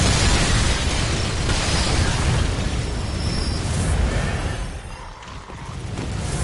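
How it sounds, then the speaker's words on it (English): Enemies blow up in the video game Bloodborne with heavy, rumbling explosions that fill the whole stretch, loud and continuous, easing slightly near the end before swelling again. "I forgot that these explode."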